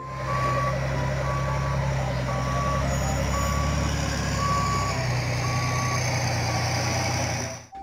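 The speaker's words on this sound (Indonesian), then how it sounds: "Wow, lihat teman-teman, di sini ada mobil truk pasir." Sand dump truck backing up, its reversing alarm sounding a steady train of evenly spaced beeps over a constant low idling engine hum, close and continuous throughout.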